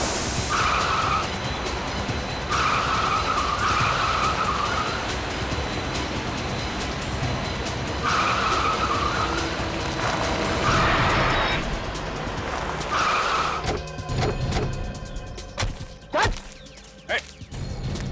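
A car tears along at speed in a chase, with screeching skids and a crash-like clatter near the end, all under busy dramatic scoring and some shouted voices.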